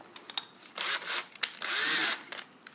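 A power tool undoes screws on the mirror mount of a Can-Am Spyder RT. It whirs in short bursts and then one longer run, close up, with small clicks and handling noises between the bursts.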